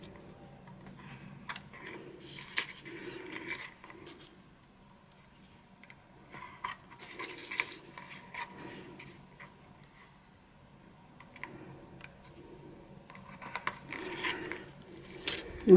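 Scissors cut through material for a homemade makeup storage organizer, with quiet intermittent snips and rustling close by, in short bursts separated by pauses.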